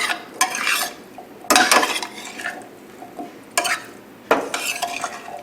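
Pork chop pan being stirred with a utensil, food sizzling steadily underneath, with several sharp scraping clinks against the pan spaced a second or two apart, close and fairly loud, no voices.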